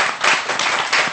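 A studio audience on a morning TV show claps together in a brief, close burst of quick, uneven hand claps with no talking over it.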